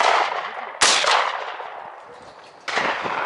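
Shots fired with new Azot cartridges outdoors, two sharp loud reports about two seconds apart, each followed by a long ringing echo fading away.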